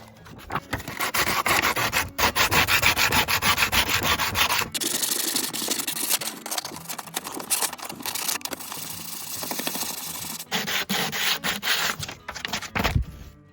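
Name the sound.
hand sanding wood with sandpaper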